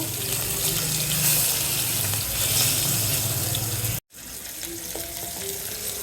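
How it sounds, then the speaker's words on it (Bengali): Potatoes and pointed gourd frying in oil in a pan, a steady close sizzle with faint clinks, a brief dropout partway through before the frying continues. "আলু পটলটা একটু ভেজে নিতেছি।"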